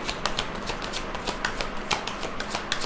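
Tarot cards being shuffled by hand, a quick run of crisp riffling flicks and soft card slaps repeating close up, with no talking over them.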